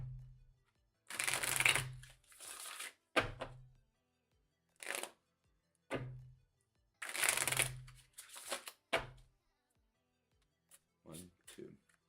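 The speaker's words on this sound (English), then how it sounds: "But no, I need a shuffle." Tarot cards being shuffled in several close bursts of riffling and flicking separated by short pauses, with a few soft taps near the end.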